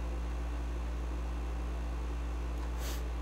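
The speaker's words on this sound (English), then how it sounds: "And if y'all can hear my air conditioner in the background," Room air conditioner running in the background, a steady low hum with broadband whooshing air, constant and unchanging throughout, with a faint brief hiss near the end and no talking.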